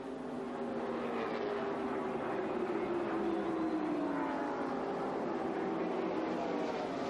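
Stock cars at the 1995 Brickyard 400 at Indianapolis roar down the front straightaway, a steady, loud engine drone with rising and falling pitch sweeping past continuously, no voices.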